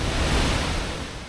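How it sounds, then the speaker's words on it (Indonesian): Rushing water at Piala waterfall in Central Sulawesi, a strong current pouring steadily as a dense, continuous broadband roar, loud and close with no voices. "kami pun tiba di air terjun favorit di Sulawesi Tengah, yaitu air terjun Piala"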